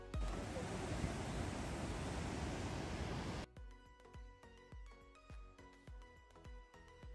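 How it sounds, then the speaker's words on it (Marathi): Fast river water rushing beneath a small footbridge on the Yosemite Mist Trail, a loud, dense roar for the first half before it cuts away to a series of rhythmic knocking sounds. "पाण्याचा स्पीड खूप जास्त आहे आणि त्याचा आवाज पण खूप मोठा आहे"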